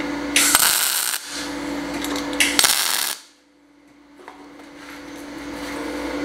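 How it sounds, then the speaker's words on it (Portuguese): Metalon steel tube for a stool tack welded in two short bursts, each a loud crackling buzz lasting about a second, near and separated by brief pauses, then a steady low hum. "Agora eu vou pontear ela aqui, ó, tá?"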